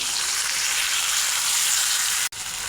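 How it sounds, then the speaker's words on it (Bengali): Cumin, bay leaf and dried chili tempering in hot oil, a steady close sizzle that runs without a break, with one abrupt dropout near the end, no talk. "তেল গরম হয়ে গেছে, এখন ফোড়ন করে নেব জিরে, তেজপাতা আর শুকনো মরিচ।"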